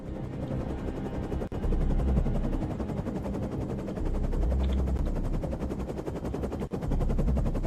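Assault rifles fire in the shooter game Defiance 2050 in rapid automatic bursts that chatter steadily over a loud droning backdrop, with brief gaps between strings of shots.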